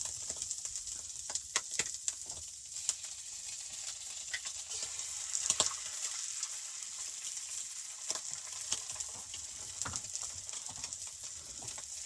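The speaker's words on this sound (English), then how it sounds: "we'll cook up some eggs here" Eggs fry in a pan at a snowy mountain camp breakfast beside a truck, giving a steady bright sizzle with scattered pops and crackles. It stays even and close throughout, and no one speaks.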